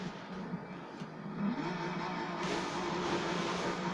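A Ford GT supercar in Forza Horizon 3 gives off a low, steady engine drone, fairly quiet and continuous, with a slight lift in intensity partway through.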